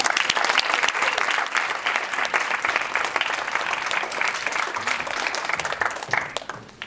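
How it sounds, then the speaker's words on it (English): Audience applause for a speaker at a talk, a full, continuous wash of many hands clapping at moderate level, fading slightly near the end. "So give a clap to Kevin."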